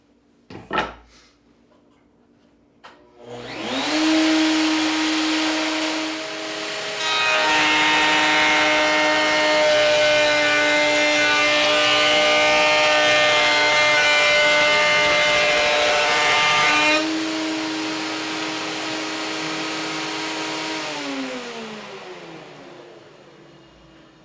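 A router table spins at 16,000 RPM and cuts wood molding for a picture frame. The motor whirs up to a steady tonal hum, growls louder under load for about ten seconds, then winds down. No one speaks.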